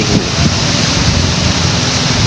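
Strong waves breaking on a shore where people fish from the beach, a loud, close, continuous roaring wash of surf mixed with wind buffeting the microphone, no voices.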